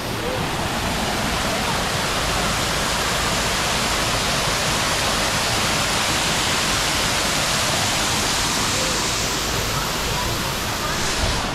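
Waterfall at the Singapore National Orchid Garden, a loud continuous broadband roar of falling water heard up close, steady throughout with no breaks.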